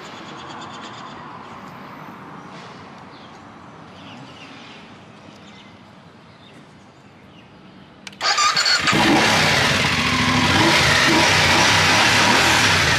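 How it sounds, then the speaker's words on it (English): A BMW GS 850 motorcycle engine cranks and catches after a stretch of quiet background noise, then settles into a loud, steady idle that continues to the end. "and let's start the vehicle."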